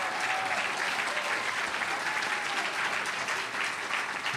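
Audience at a Texas Radio Hall of Fame ceremony giving a round of applause for the speaker's wife on her birthday, a steady, even burst of clapping throughout.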